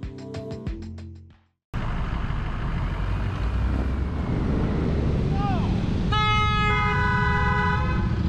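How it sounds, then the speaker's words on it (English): A car horn sounds on a road in Madison, Indiana, as a sustained, fairly loud blast near the end that rises over wind buffeting and road noise. It follows a short burst of tonal sound at the start. "you were honking at me for other reasons"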